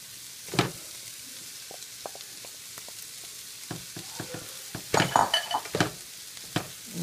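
Wild rice with lentils poured into a hot pot, soft sizzling with a few stirring scrapes and clinks of a utensil against the pot, the sizzle swelling briefly near the end.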